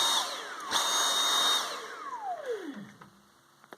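Dyson V8 Total Clean cordless vacuum running loud and steady, its motor whine sliding downward in pitch as it winds down near the end, with a few faint clicks after it fades.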